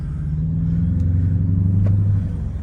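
A 2011 Mercedes SL550 accelerates on the road, its V8 engine giving a loud, steady low rumble that builds slightly as the car pulls away, with no talking over it.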